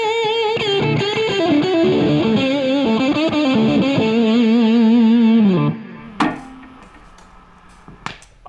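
Electric guitar played through a distortion pedal into a Marshall Origin 20 amp, a loud gritty sustained riff with shifting notes that cuts off near the end, followed by a few sharp string hits and quiet hiss.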